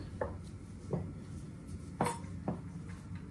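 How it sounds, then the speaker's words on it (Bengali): A knife chops chalta (elephant apple) for dal in a home kitchen, giving a handful of sharp knocks on a board at uneven intervals, close and fairly quiet, with no talk over the cutting. "চালতোটা সুন্দর করে কেটে নিই"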